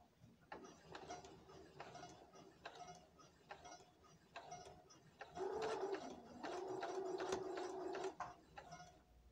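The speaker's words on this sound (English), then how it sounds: "back and forth stitch at the end" A sewing machine runs a back-and-forth stitch on baby booties: short, close whirring bursts separated by brief pauses, then longer, louder continuous runs of rapid mechanical ticking.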